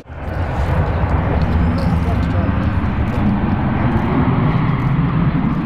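A passenger airliner on the first flight from Kraków lands at Kherson airport, its engines a loud, continuous roar that rises quickly and holds steady throughout.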